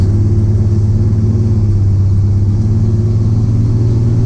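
A 1987 Chevrolet S10 pickup's engine runs steadily with a loud, droning low rumble and a rough, pulsing beat that stays constant throughout, with no speech over it.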